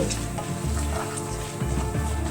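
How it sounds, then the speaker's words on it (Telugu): Tempering spices frying in hot oil for a coconut chutney, a steady close sizzle and crackle throughout with a faint rhythmic low hum underneath and no voices. "తాలింపు దినుసులు కూడా ఫ్రై అయిపోయినాయి"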